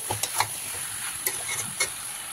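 Mutton curry with chopped capsicum sautéing in a pan, giving a steady close sizzle broken by a few sharp scraping stirs of the spoon, with no voices.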